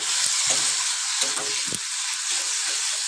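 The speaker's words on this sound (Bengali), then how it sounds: "ওর মধ্যে এবার দিয়ে দেবো একটু জিরের গুঁড়ো দিয়ে ভালো করে ফের মশলাটাকে কষিয়ে নেব।" Cumin powder and spice masala sizzle steadily in hot oil while being stirred for khichuri, with a continuous close frying hiss and occasional scraping stirs.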